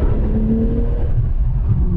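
A 1996 Porsche 911 Turbo engine pulls in second gear, a loud, steady low rumble with a droning tone that rises and holds, heard from inside the car with no talking.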